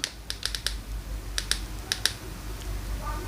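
Keys pressed on a handheld radio receiver's keypad to enter airband, about ten short clicks in small clusters heard close, with no talk.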